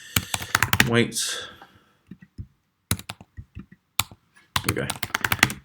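Computer keyboard typing a search phrase, with quick bursts of close clicking keystrokes in clusters and sparse single taps, broken by someone speaking.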